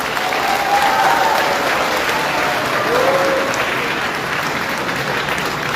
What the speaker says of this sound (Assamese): সকলো ছাত্ৰ ছাত্ৰী এটা হাত চাপৰি দি অভিনন্দন আৰু শুভেচ্ছা জনাব লাগে